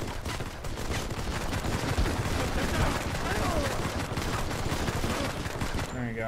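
Gunfire in the Modern Combat 5: Blackout mobile shooter, dense rapid rifle bursts filling the whole stretch, loud and continuous, with game effects near the end and a player's voice faintly mixed in.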